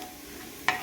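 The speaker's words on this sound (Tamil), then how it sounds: "அந்த ஆயிலே நம்ம தாளிக்கிறதுக்கு எடுத்து வச்சுருந்ததெல்லாம் போட்டுடலாம்" Tempering spices dropped into already hot oil for a Chettinad ladies finger kulambu give a single brief sizzling burst near the end, after a quiet stretch of faint kitchen background.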